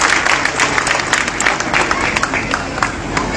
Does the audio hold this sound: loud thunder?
no